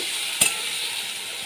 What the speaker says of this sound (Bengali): শুকনো লঙ্কা দিয়ে দিলাম টমেটো দিয়ে দিয়েছি ভালো করে আমি নেড়ে নিচ্ছি